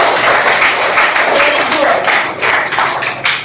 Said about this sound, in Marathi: हा टाळ्या वाजवायच्या आहेत.